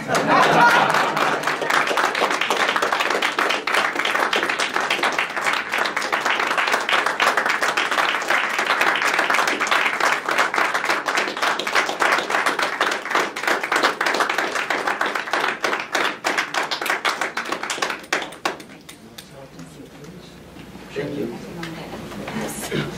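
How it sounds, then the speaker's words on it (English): Dense, sustained applause from an audience at a Truman-Reagan Medal of Freedom award ceremony in Washington, D.C., loud and steady for nearly twenty seconds before tapering off under a voice. "We can keep clapping."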